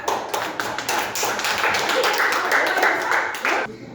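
Students in a classroom clap their hands together, a dense, steady burst of many overlapping claps lasting several seconds before stopping abruptly, with a little talk mixed in.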